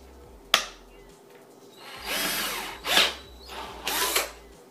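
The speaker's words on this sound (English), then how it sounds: "after you tighten it with the drill" A power drill tightens skateboard bolts in short bursts: a sharp click, then three separate whirring runs of rising and falling pitch, each lasting under a second, close and moderately loud with no voices.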